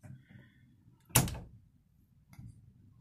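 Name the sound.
door closing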